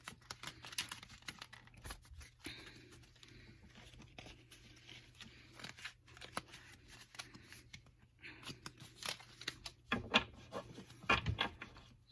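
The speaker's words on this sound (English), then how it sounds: "let's give these cards some shuffle." Tarot cards are shuffled by hand in a quiet room, soft riffling and patting bursts in irregular spurts, close and faint, with light rustling between shuffles and no talking.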